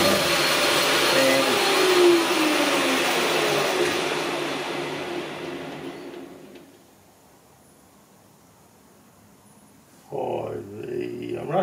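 Steady loud cutting noise of a metal lathe turning a post hole digger output shaft at 900 RPM with a 50 thou depth of cut, fading out midway to near silence before a voice speaks briefly.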